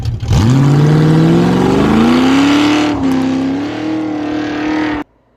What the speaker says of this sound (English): it's me doing a little mini burnout, little brake stand